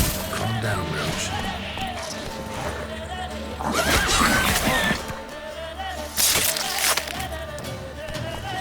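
Roach the horse neighing and whinnying in The Witcher 3, with clip-clopping hooves and a couple of loud crashing bursts, the whinny recurring over the span, fairly close.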